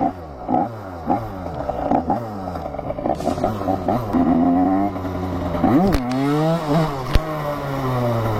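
A Derbi moped engine revs hard in repeated rising and falling sweeps, loud and close, with a few sharp clatters near the end and no talk.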